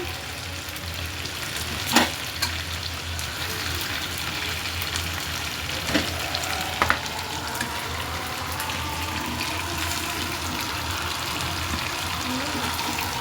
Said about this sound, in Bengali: তো গ্যাস মুরগিগুলো আমি একটু হালকা ভাজাটা নিলাম